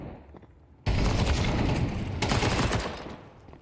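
In a Counter-Strike match, gunfire from a Mag-7 shotgun erupts as a sudden, dense burst of loud shots lasting a few seconds before fading, with a faint earlier lull.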